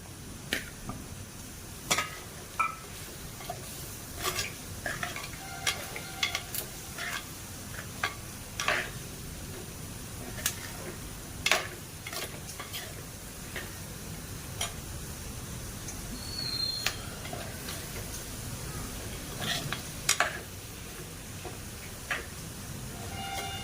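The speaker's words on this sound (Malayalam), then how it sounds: "ഇനി നമുക്ക് ആ മീനും കൂടെ അതിനകത്തിട്ട് ആ മസാലയ്ക്കകത്തിട്ടൊന്ന് ഇളക്കാം." Dried fish is stirred into masala in a pan: scattered light taps and scrapes of a spoon over a faint, low frying hiss, close by and unhurried, with no speech.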